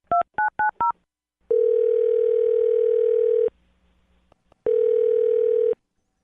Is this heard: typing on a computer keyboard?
no